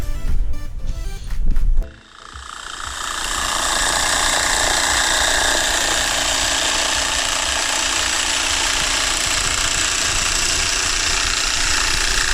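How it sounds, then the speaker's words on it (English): A jigsaw saws through hardboard for the headlining of a VW T4 campervan conversion. After a few seconds of knocking and handling, a loud continuous high-pitched buzz runs steadily to the end, close up and with no talking. "So we've just got the jigsaw and we're going to cut it out."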